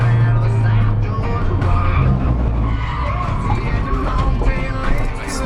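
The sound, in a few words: car losing traction in replayed footage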